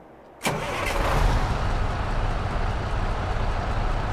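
Freightliner FLB truck in American Truck Simulator cranking and firing up, an abrupt start followed by a loud, deep diesel rumble settling into a steady idle, with no speech.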